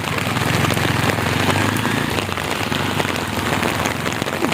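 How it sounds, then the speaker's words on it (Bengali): A loud downpour in Sylhet near Haripur bridge keeps up a thick, unbroken roar of raindrops spattering on nearby surfaces, with no talking. "বৃষ্টি বাড়তেছে"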